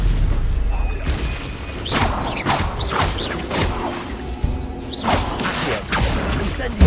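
Incendio fire spell cast in Hogwarts Legacy, a run of repeated whooshing bursts and booms over game mechanisms, several blasts in quick succession with a voice calling out between them.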